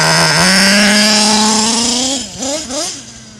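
A small, high-pitched RC nitro car engine idles steadily nearby, then dips and blips through a couple of quick revs toward the end.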